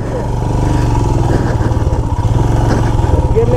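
Motorcycle ridden off-road on a rough track on a long-distance trip toward Lonavla, a steady close engine drone with rattling and clatter throughout, a few rises in revs, while a rider talks over it.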